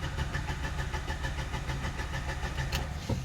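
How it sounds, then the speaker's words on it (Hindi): A Nissan Magnite engine cranking but failing to start: a steady, loud, rapid rhythmic churning of the starter turning the engine over throughout, close by, with no catch or rev. "गाड़ी क्रैंक भी हो रही है बट स्टार्ट नहीं हो रही।"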